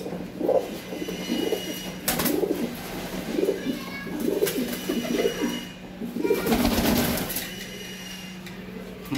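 Twelve fancy pigeons for sale, including crested white, red, black and Kerala birds, coo in repeated rhythmic bursts close by, with a low steady hum underneath.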